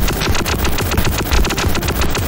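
Loud, rapid repeated blasts of cannon fire in the Ecco the Dolphin video game, a dense continuous barrage with no voices.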